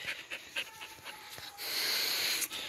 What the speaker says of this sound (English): this is my dog, Minnie.